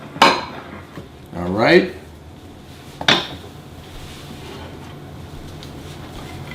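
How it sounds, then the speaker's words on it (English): Ceramic plates clatter and clink as two are taken out in a home kitchen while French toast and bacon are being served, with a few sharp knocks and scrapes separated by pauses and brief speech. "Get 2 plates out."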